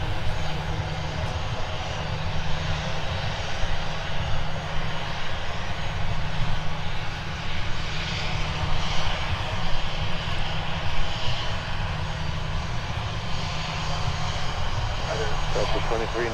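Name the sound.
Delta airliner engines at Minneapolis airport during departure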